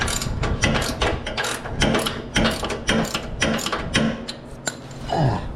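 Ratchet wrench backing out exhaust bracket bolts on an Indian motorcycle: dense, continuous clicking of the pawl in quick rhythmic strokes, close and loud, with no talking.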